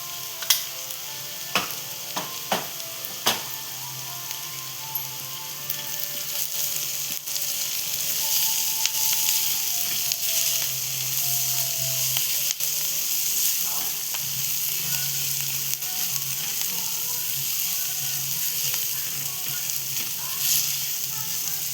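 Turmeric and asafoetida sizzle in hot oil, a constant close hiss with a few sharp spoon knocks near the start and softer scraping afterward. Nobody speaks.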